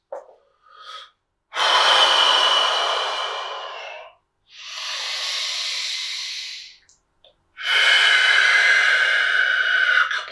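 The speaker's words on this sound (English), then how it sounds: "take a couple breaths" Deep breathing during a workout, with three long, loud, hissing inhale and exhale cycles close to the mic and short silences between them.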